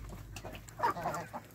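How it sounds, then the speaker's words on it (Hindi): A large, pure desi rooster at a poultry farm in Jammu gives a brief, close cluck in the middle of a short stretch of quiet farmyard ambience. "वो देसी बड़ा मुर्गा है, शानदार प्योर देसी मुर्गा है।"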